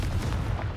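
A Confringo blasting spell cast in Hogwarts Legacy lands as a brief, heavy booming blast with a rumbling low body, loud and over in under a second.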